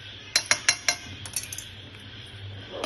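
Spoon or utensil clinking against a bowl while spice paste is worked into mango pieces for Bengali mango achar: four sharp clinks in quick succession, then softer lighter taps, close and fairly quiet with a low hum beneath.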